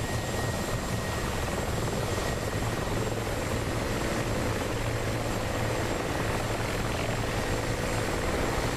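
A Mi-24 helicopter in the combat flight simulator DCS World, a dense, steady rotor and engine roar that fills the whole stretch at even loudness without letup.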